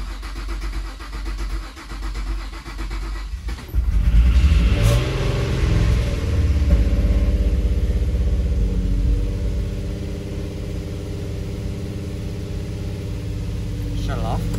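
An Infiniti G35 engine cranks and fires up for the first time, revving loudly before settling into a steady, rumbling idle that fills the rest of the recording, with people talking nearby.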